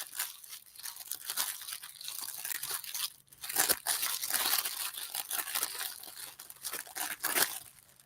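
Shiny gold-painted 12 by 12 paper sheets crinkle and crunch steadily and close up for about eight seconds, with a brief quieter dip midway and no talking.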